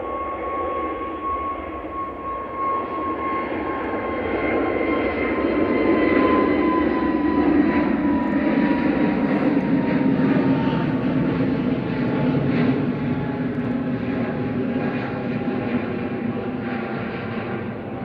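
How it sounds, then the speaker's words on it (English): An Airbus A320neo in new livery departs Manchester Airport for Copenhagen, its jet engine roar swelling to a loud, sustained rumble with a steady whine, then easing slightly but staying strong to the end. "Heading off to Copenhagen with flight 542. This is EISIU, a little A320neo with the new livery."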